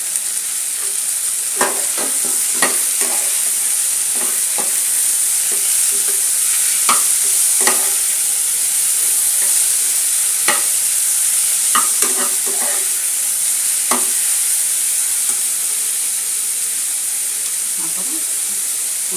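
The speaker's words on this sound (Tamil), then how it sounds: "தக்காளியும் கொஞ்சம் வதங்கிடுச்சு இப்போ வந்து நம்ம வந்து இந்த கேப்சிகம் சேர்த்துருக்கோம்" Tomato and capsicum sautéing in a pan for a cauliflower, potato and capsicum pulao, giving a steady close sizzle with repeated scraping clicks of a spoon stirring throughout.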